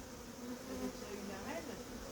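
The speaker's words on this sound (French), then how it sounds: "je vais taper un peu pour faire tomber les abeilles, pour faire descendre les abeilles" A honeybee swarm buzzes steadily at close range as it is being put into a hive, a dense continuous hum with no break.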